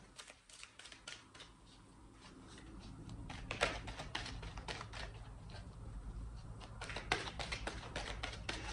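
Tarot cards being shuffled by hand, a rapid run of crisp riffling taps and flicks that swells and grows denser partway through, close and fairly quiet.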